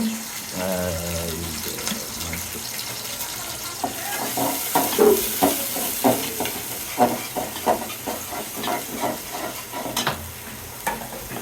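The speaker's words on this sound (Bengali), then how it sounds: "মাংস নাকি বসানো শুরু হয়ে গেছে" Duck meat starting to sizzle in a pan for a rainy-day meal with bhuna khichuri: a continuous frying hiss with scattered spatters and utensil scrapes, fairly close and loud.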